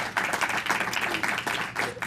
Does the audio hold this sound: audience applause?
yes